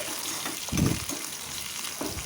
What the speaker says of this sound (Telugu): ఒక స్పూన్ అల్లం వెల్లుల్లి పేస్ట్ అది కూడా ఆయిల్లో మంచిగా ఫ్రై కావాలి